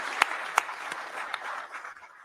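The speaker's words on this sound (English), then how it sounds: "Give those ladies a big round of applause." Scattered applause from a press conference audience, a few sharp claps standing out at first, then a steady patter of many hands that slowly fades.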